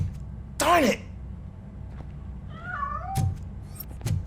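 In the video game Robocop: Rogue City, a cat gives a sharp loud meow, then a few softer, wavering meows and brief clicks, heard over low steady background ambience.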